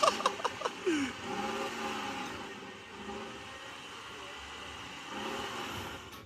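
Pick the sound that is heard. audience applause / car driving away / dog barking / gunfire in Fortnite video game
car driving away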